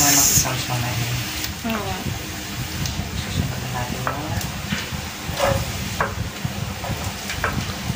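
Garlic and onion sauté in a pan for Filipino pineapple chicken, giving a steady sizzle with scraping stirring strokes. People talk over it.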